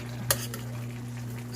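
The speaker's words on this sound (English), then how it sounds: "I'm going to take my big spoon and I'm going to stir these things up" A big spoon stirs chicken and broccoli through sauce in a pan, a single sharp scrape of the spoon over a faint steady hum, quiet and close.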